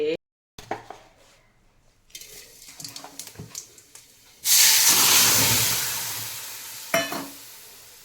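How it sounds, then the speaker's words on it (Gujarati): Curd is tipped into sizzling hot oil for tempering. After some quiet clinks and handling, a loud, sudden hiss erupts and keeps sizzling steadily, with a short knock of cookware near the end. "વઘારેલું દહીં"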